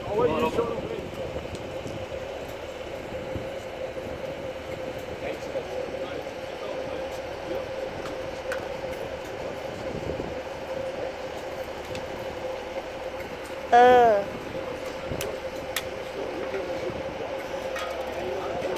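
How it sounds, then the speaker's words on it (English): A Class 156 diesel multiple unit dividing and departing at Kilmarnock station, heard as a steady low engine drone with a continuous hum, a short metallic squeal late on, and faint clinks throughout. "Right guys, I can see it departing now."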